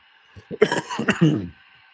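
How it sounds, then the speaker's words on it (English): Several short, close coughs and throat-clearing bursts from someone irritated by thick smoke from a running HO scale model train, in an indoor train layout room, with no talk between them. "Making me cough."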